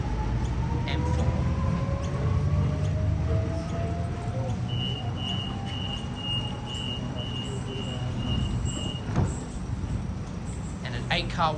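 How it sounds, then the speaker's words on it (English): An 8-car Waratah Sydney train departs platform 1 at Yagoona station on a Bankstown service, with a steady loud rumble and a rising electric motor whine, plus a brief high tone partway through. "And an 8-car Waratah Bankstown service departing platform 1 at Yagoona."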